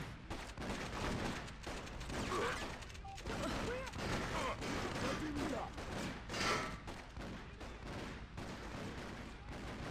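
Continuous gunfire and explosions from the Freedom Fighters video game during a Manhattan movie theater mission, dense and busy with repeated bursts and thuds throughout, and a voice talking over the action.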